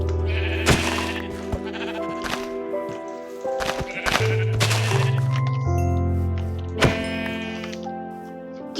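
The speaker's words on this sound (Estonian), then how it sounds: "Ma lähen kohe neid lambaid tapma." Sheep in the video game Minecraft bleat in a few loud, wavering calls, mixed with game thumps, hits and background music.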